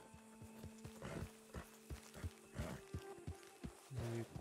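A horse in the video game Red Dead Redemption 2 clip-clops steadily at walking pace, hooves thudding evenly and close, with a brief neigh near the end over a faint background hum.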